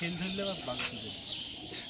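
Soft cooing of a Rajshahi Giribaz racing pigeon nearby at a pigeon farm, a few throaty warbling calls with light chirps, against a quiet background.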